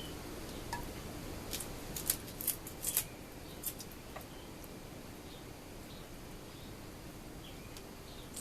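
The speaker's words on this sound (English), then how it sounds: "just try to find the joint and just cut right there at that joint" Kitchen shears cutting raw chicken wings at the joint, giving a few close, sharp snips and crunches over a steady quiet background hiss.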